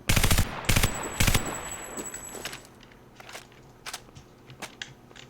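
Gunfire in the CRYENGINE V GameSDK sample project: three loud, close machine-gun bursts in the first second and a half, then fainter scattered shots and footstep-like clicks trailing off.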